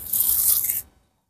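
Tying material torn into strips for binding a grafted dwarf-leaf tamarind bonsai, giving a single close, bright ripping rasp about a second long that stops abruptly.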